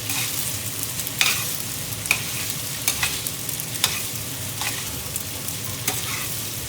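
Garlic shrimp with pesto stirred in a hot pan: a constant close sizzle with regular scrapes and clinks from the utensil.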